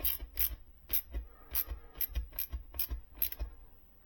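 A tool tightens the nut on a replacement speaker binding post of a JBL L56 loudspeaker, giving a series of short, crisp ratcheting clicks in an irregular rhythm, close and fairly quiet.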